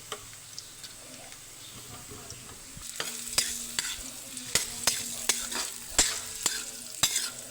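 Utensil stirring onion, garlic and ginger sautéing in a pan, sharp regular scraping clicks over a continuous sizzle that grows busier halfway through, close up.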